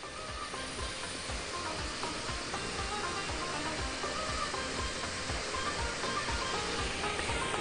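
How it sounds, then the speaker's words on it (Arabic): Boiling water pours steadily into a cooking pot for rice, a constant loud rushing splash close to the ear with no talk over it. "دي حله واحط فيها ميه مغليه"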